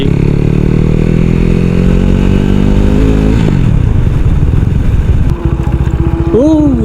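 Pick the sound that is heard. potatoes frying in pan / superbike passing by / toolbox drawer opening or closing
superbike passing by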